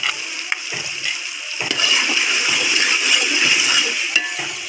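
Water poured into a pan of green chickpeas roasting with pickle, a loud steady hiss and sizzle spreading across the pan and holding for several seconds with no talk.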